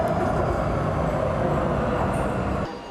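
A Taipei Metro train runs steadily with a loud, continuous rolling rumble and rail hiss that holds evenly before dropping off abruptly near the end.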